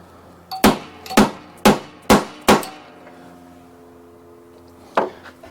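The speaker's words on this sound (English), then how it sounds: "we're going to take a socket that fits in the outside ring, and we're just going to drive it home" A socket struck with a hammer drives a bearing into a 30-inch Exmark mower deck, five sharp metallic clanging blows in quick succession, then a pause and one more hit, close and loud with ringing decay.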